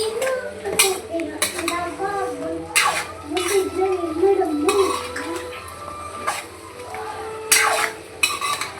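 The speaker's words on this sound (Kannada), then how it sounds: "ಒಂದು ನಿಮಿಷ ಚೆನ್ನಾಗಿ ಫ್ರೈ ಮಾಡ್ಕೋಬೇಕು." Cabbage Gobi Manchurian fries in a pan as a spatula stirs and clinks against the metal, giving repeated scrapes and knocks over a low sizzle, with a person talking throughout.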